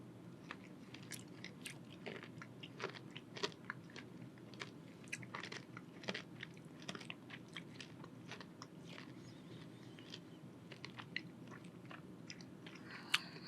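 Crunchy chewing of Humbleberry granola with vanilla yogurt, a steady stream of small crisp bites and crunches, close but quiet, with no talking.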